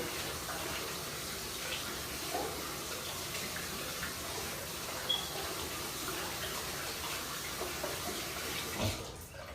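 Tap water runs steadily while hair is rinsed, a continuous close hiss and splash at moderate level for several seconds, with a brief clunk near the end and no talking.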